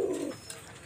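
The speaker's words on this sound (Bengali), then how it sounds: "নিউ রানিং পেয়ার কবুতর" A pigeon from a newly mated breeding pair of adult John Cena teddy pigeons coos once in a short, low, throaty burst, fairly close and alone, followed by quiet.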